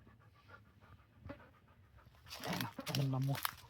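A shelter dog pants in quick, close breaths that grow louder toward the end, with a brief whining tone and faint talk in the background.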